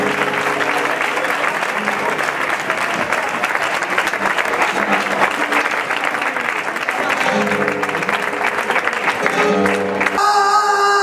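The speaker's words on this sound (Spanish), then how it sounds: "Un fuerte aplauso para ella." Audience applause at a flamenco festival performance, a loud, steady dense clapping crowd filling the whole stretch, with voices and bits of music mixed in beneath it.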